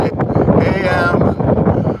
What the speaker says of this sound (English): yeah, it's windy here. This is pretty windy.